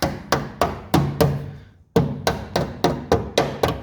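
Hammer blows on small metal tabs of a 1940 Chevy coupe front clip, held from behind with a magnet: a close, loud series of sharp strikes in an uneven rhythm, about a dozen hits with a short pause midway.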